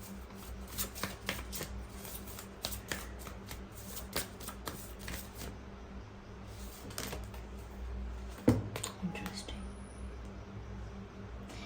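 Playing cards shuffled and drawn for a card reading, a steady run of soft riffling clicks and slaps close by, with a brief louder snap near the end.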